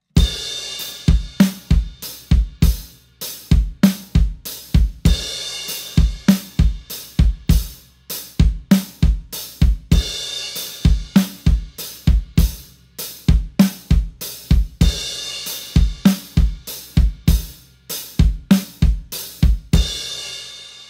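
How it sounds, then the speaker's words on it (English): A drum kit drives a groove with crash cymbals on each downbeat, washes of cymbal returning every bar over a steady kick and snare pattern, close and loud for about twenty seconds, no voices. "And again, you play crashes on the ones."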